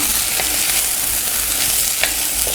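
Brussels sprouts browning in a hot pan give a loud, steady sizzle and frying hiss with a few brief crackles and stirring scrapes, with no talking.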